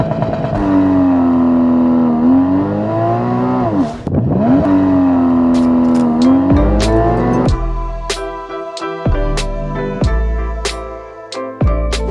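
A Porsche 981 GTS engine roars hard through a launch-control start, revving high and climbing, then rapid gear shifts punctuate the pull with sharp breaks in the drone.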